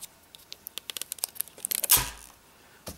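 Plastic film peeled off an Apple iPod box, heard as a quick series of crisp crinkles and small tearing snaps that end in one longer ripping pull, close up and fairly quiet, with no talking.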